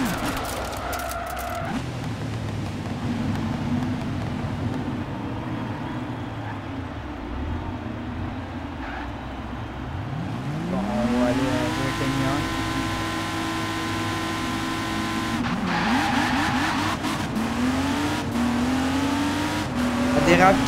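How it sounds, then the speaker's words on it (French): A Lego car engine sound rises in pitch as it accelerates from the start, with revving tones sweeping upward and tyre-like squeals, loud and near, while people talk over it. "On va voir l'accélération au départ."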